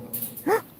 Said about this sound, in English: Hear the doggy?